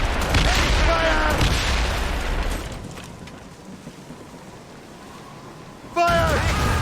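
Ship cannons firing in a naval battle in Assassin's Creed Rogue Remastered, with deep booming blasts and rumbling at the start and again near the end, under shouted voices.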